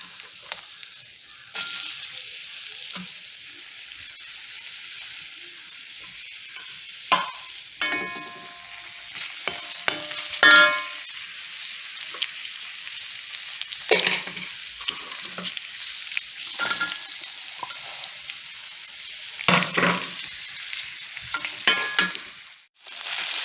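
Chopped onions fry in a couple of teaspoons of ghee, giving a continuous close sizzle with scattered stirring scrapes and clinks; no one speaks.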